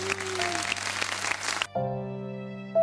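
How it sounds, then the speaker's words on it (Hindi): An audience applauds to welcome arriving guests, a lively burst of clapping for under two seconds that cuts off abruptly into sustained electronic music tones. "बहुत सारी तालियों में इनका इस्तकबाल कर रहे हैं भाई।"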